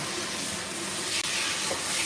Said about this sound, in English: So yeah, let's just spray this down here. Let's spray this all down.